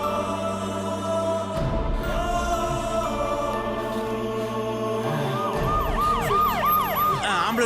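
Ambulance siren wailing loudly and continuously on a street in a Tamil TV drama scene, rising and falling in repeated sweeps that grow more prominent toward the end, with traffic noise underneath.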